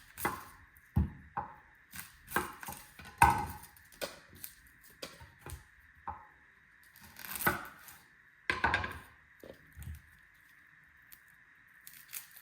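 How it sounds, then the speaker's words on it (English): A knife cuts an onion on a board for chicken stock, producing a handful of separate, sparse chops and taps spread out with pauses between them, near and fairly quiet, over a faint steady hum. "we can cut our veggies quite large. We will do the same with onion."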